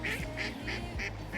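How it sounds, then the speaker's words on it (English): A duck quacks in a quick rhythmic series of about five nasal calls, fairly close, outdoors in Ireland over a low background rumble. "And I'm being laughed at by a duck."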